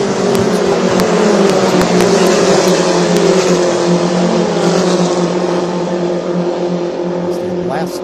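Race cars in an International GT and F1600 race at Road America in Wisconsin roar continuously, a loud sustained engine drone with shifting pitch as they accelerate through the kink toward Canada Corner.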